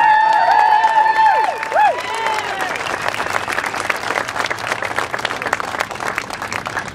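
A Colorado audience at a National Medal of Honor Museum event bursts into loud applause and cheering, with whoops rising at first and then settling into steady clapping.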